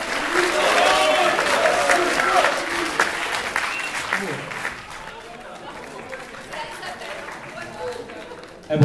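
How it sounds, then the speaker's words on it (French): Loud, sustained applause fills an evening gathering for a choir, strongest at first then easing, with chatter and a few voices mixed into the clapping. "on peut les applaudir bien fort"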